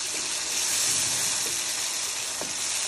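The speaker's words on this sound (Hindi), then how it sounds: "इसको हम 5 से 6 मिनट भूनेंगे" Mutton karahi frying in a pan, a dense, steady sizzle filling the whole clip, close and even, with a few faint stirring sounds beneath and no talk.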